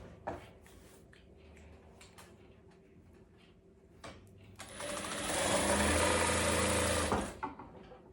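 A sewing machine runs a seam through silk for a sharara, a steady whirring burst of stitching lasting a few seconds after quieter handling clicks and rustles.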